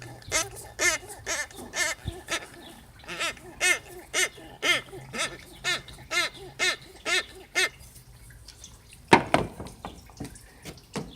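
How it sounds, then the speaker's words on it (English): Under a car's hood, an old, worn water pump runs with a steady rhythm of sharp, close squeaking pulses about twice a second. The pulses thin out near the end, followed by a brief louder burst. "This is the old water pump."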